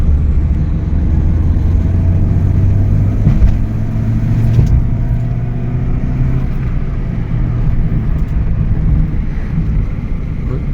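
Steady low engine drone and road rumble from inside a moving Peugeot 205 GTX, with constant wind noise over the microphone and no talking.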